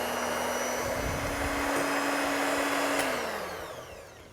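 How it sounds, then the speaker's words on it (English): An electric mixer whips cream for chocolate mousse with a loud, continuous motor whir and a steady tone whose pitch drops toward the end, as the mixer winds down with no talking. "whip up the cream until like soft ribbons sort of form throughout"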